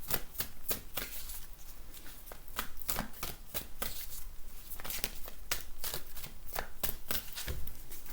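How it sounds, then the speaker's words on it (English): Deck of angel cards being shuffled, a close, continuous run of rapid papery riffles and snaps with an even rhythm throughout. "I'm just going to pull an angel card here."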